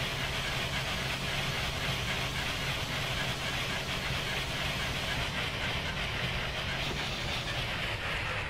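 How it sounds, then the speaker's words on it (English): Simulated Union Pacific FEF-3 Northern steam locomotive accelerating on Sherman Hill in Train Simulator 2015, a steady close rumble and hiss of steam with continuous engine noise throughout, no talking. "Slab more steam into the steam chest, and we're now accelerating again."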